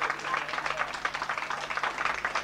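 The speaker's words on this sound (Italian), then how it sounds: "Facciamo un applauso perché sono venuto per lui." A crowd applauding steadily, a dense patter of many hands clapping at moderate distance, continuing evenly throughout.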